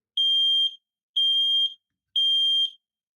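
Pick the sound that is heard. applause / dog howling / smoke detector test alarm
smoke detector test alarm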